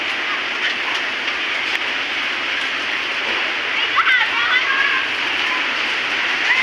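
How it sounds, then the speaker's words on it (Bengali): Heavy storm rain pours over a green village, a thick, continuous hiss and roar of falling water that stays steady and loud throughout, with a few faint higher sounds briefly breaking through. "কি তুফান হইতেছে আল্লাহ কি তুফান হইতেছে আল্লাহ"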